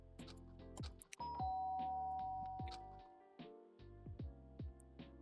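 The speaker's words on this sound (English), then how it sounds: "The sharp sound of the doorbell pierced my sleepy haze and pulled me back to the real world." Doorbell in the video game Danganronpa rings out with a bright two-tone chime over soft musical tones, loud and clear with no talking.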